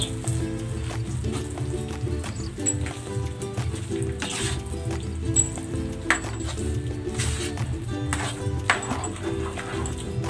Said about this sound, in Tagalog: Hahaluin natin ito hanggang sa matuyo yung syrup.